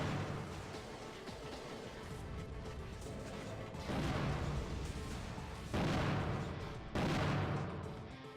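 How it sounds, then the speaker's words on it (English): Needle gun shots striking at close range in the Custom Robo video game, a harsh distorted crashing roar with several loud bursts swelling over the noisy background. "The needle gun is also another one of the weapons that likes to mess with the audio when you"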